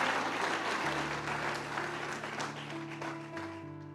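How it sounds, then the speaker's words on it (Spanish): A church congregation applauds during a Sunday service, a steady dense clapping that fills the room, with sustained keyboard or organ tones running underneath. "¿Cuánto le dan un aplauso al Señor por eso?"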